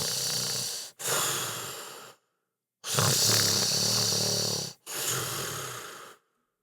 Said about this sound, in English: There was a snoring sound